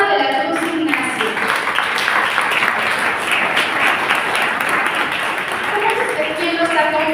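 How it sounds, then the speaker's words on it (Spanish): Strong audience applause welcoming a storyteller to a legends night in southern Jalisco, full sustained clapping with a voice speaking over it at the start and end. "Recibamos con un fuerte aplauso a Norma de la Cruz Ignacio."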